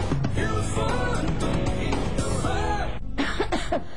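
A cough in a radio-style cough syrup advertisement, heard over continuous music and voices filling the whole short stretch.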